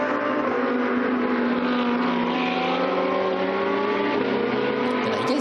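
GT2 race cars, an Audi and a KTM, scream past on a racetrack at Dijon with a sustained, high-pitched engine drone that stays loud and steady throughout, with no commentary heard.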